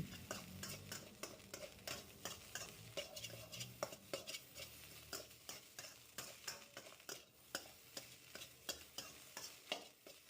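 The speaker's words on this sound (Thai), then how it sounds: "ผัดด้วยไฟกลางนะคะเดี๋ยวข้าวก็แห้งเอง" Shrimp fried rice is stir-fried in a pan over medium heat, with a quiet, steady rhythm of a spatula scraping and tossing against the metal over a soft sizzle, close up, no voices.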